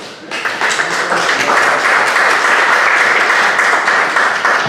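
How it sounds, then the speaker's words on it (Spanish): An audience at a literary talk bursts into warm applause, a dense, steady wash of many hands clapping at once that holds strong for several seconds, with no voices over it. "Fuertes aplausos para Elena"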